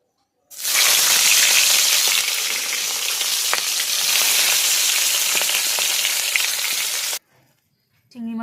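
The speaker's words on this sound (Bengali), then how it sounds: "চিংড়ি মাছ আমার ভাজা হয়ে গেছে।" Prawns hit hot oil in a pan and break into a loud, steady sizzle that holds for several seconds, with a few sharp crackles, then cuts off abruptly.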